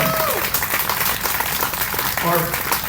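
Crowd applause for four candidates at a summer political picnic, dense outdoor clapping throughout, with voices and a few cheers mixed in.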